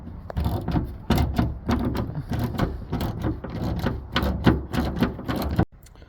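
10mm screws being run out of a Dodge Grand Caravan liftgate with a power tool, giving close, loud, repeated clicking and ratcheting bursts that continue steadily before stopping abruptly.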